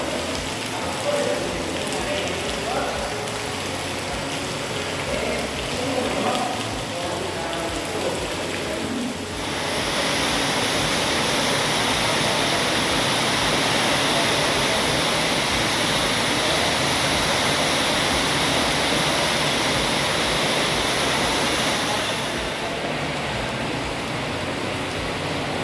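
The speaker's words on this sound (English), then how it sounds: "This is no exaggeration, it rained like this for a week." Heavy, steady downpour on a building site in the Philippines, a dense continuous roar that swells louder about a third of the way through and holds there, with faint voices underneath.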